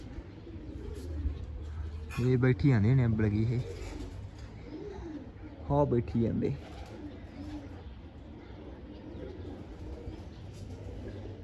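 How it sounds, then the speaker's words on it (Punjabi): Pigeons perched on a house roof coo softly now and then over a steady low background hum, while someone talks in two short bursts nearby. "ਜਿਹੜੇ ਕੋਠੀ ਤੇ ਬੈਠਦੇ ਕਬੂਤਰ"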